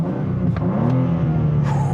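A 2023 BMW M2 with a six-speed manual and inline-six engine rumbles through its exhaust in sport mode with the baffles open, a steady, deep, loud drone that holds without distinct pops.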